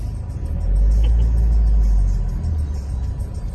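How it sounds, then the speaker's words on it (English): Road traffic passes close by: a loud, low engine rumble swells to a peak, holds, then eases away as vehicles go by, with no voices. "But look at the traffic now, look."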